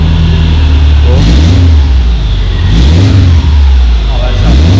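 A Subaru Forester with an aftermarket exhaust revs repeatedly, its engine note swelling and falling in two or three loud pulls over a steady rumble, with voices speaking at times.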